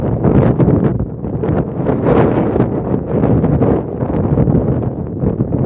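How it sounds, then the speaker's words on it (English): Steady wind buffets an outdoor microphone on a cold, pretty day, a loud continuous low rumble with gusting swells and no speech. "Yeah, the wind."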